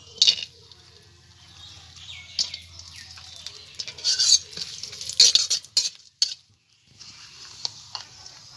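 Bay leaf, whole garam masala (cinnamon, cardamom, cloves) and cashews frying in ghee and oil for Gobindobhog rice pulao, a light sizzle broken by repeated stirring and scraping in the pan, with a brief quiet gap near the end.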